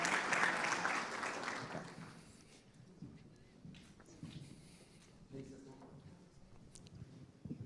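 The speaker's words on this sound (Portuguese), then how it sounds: "Vamos passar uma de palmas para ele" Audience applause for a speaker at a business talk, loud at the start and fading within about two seconds, followed by quiet room noise, a few scattered thumps and low talking.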